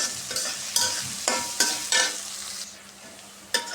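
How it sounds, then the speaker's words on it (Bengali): Onions and green chillies fry in a wok while a utensil stirs them, with sharp scraping strokes every half second or so over a bed of sizzling oil, close up and without speech. "পেঁয়াজটা একটু ভেজে নেব।"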